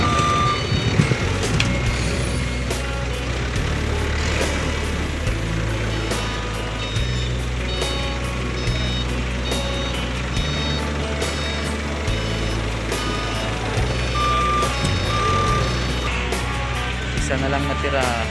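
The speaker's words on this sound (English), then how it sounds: "yung binababa ng forklift ng mga pangarga namin eh" A forklift unloading crates of valves at a pier container yard, its reversing alarm beeping steadily and loudly throughout over a low engine drone, with people talking in the background.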